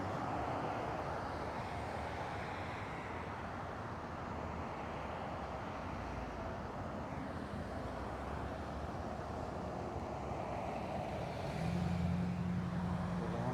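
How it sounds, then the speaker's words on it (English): Steady traffic of many cars passing while on an eBike ride, a continuous broad roar of tires and engines at fairly low level with no distinct pauses and no voices. "A lot of cars."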